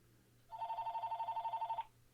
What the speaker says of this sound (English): well, of course I would get a phone call.